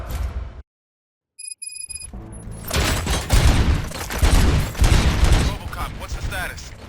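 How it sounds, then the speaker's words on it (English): A dense burst of rapid gunfire in the video game RoboCop: Rogue City erupts after a short silence, loud and sustained, with mechanical beeps and clatter mixed into the barrage. "Gunshots? What's going on?"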